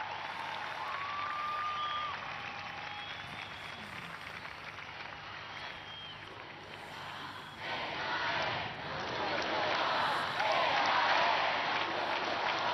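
Young people at a papal youth gathering at a shrine in Chile clap and cheer joyfully, a broad, steady crowd roar that swells louder toward the end, with scattered whistles rising above it.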